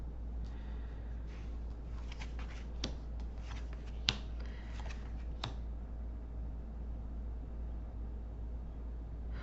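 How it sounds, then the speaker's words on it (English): A deck of cards shuffled repeatedly during a card reading, soft riffling bursts close by, with a few sharper snaps, over a quiet steady room hum. "I have shuffled and shuffled and shuffled these cards."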